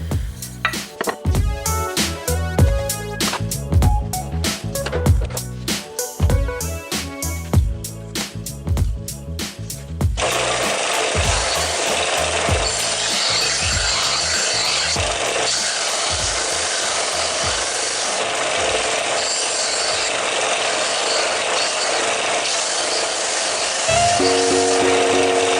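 Wooden cake knife having a bevel sanded on a belt sander: rapid gritty rasping strokes at first, then a steady loud continuous whir of the sander grinding against the wood.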